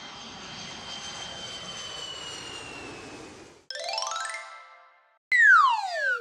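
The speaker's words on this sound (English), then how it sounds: "One orange airplane." A cartoon airplane engine effect in a children's nursery rhyme, a sustained jet-like whoosh for several seconds, followed by short bright synthetic chimes and a rising-falling tonal sweep, with no singing.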